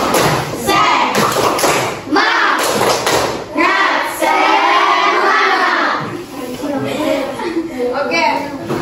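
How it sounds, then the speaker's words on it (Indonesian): Primary school class in a teacher's classroom lesson performing a rhythmic spirit clap, loud and close, with thumping claps and children shouting along in unison for several seconds. "Sebelum lanjut, kita tepuk semangat."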